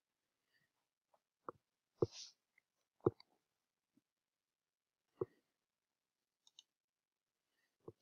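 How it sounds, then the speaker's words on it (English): Sharp mouse clicks on a computer while Windows 11 is being installed on a Dell Latitude E6320 laptop, about half a dozen isolated clicks spaced irregularly over several seconds, faint in a quiet room. "Then we're just gonna click on accept."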